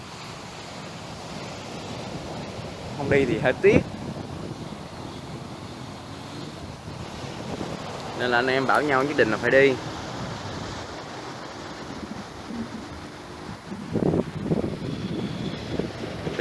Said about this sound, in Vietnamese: Trời ơi sóng đánh dập dìu